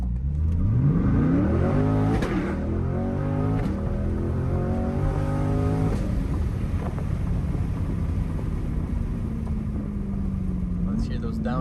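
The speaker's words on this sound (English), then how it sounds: "Let's hear those downshifts." A C8 Corvette Stingray's 6.2L V8 through an MRT aftermarket exhaust climbs through rising revs, then drops into lower tones, loud and close with wind buffeting behind it.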